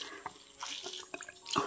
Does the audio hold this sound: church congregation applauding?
no